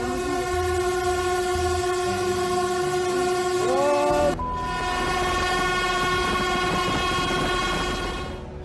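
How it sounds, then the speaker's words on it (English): An approaching train sounds its horn in long, loud blasts over a heavy rolling rumble; the horn tone shifts sharply partway through as the train draws near, and nobody speaks. "When seeing the train approaching, a mother bear hurriedly led her cubs across the tracks."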